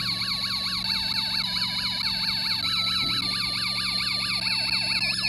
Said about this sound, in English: You can hear the happy birthday song play it.